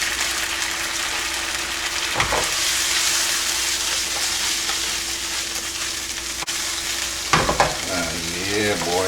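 Chipotle shrimp hitting a hot pan of adobo sauce fry with a steady loud sizzle, broken by a couple of sharper spatters and stirring clatters near the end.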